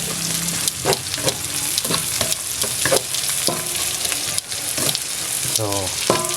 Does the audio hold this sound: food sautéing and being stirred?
yes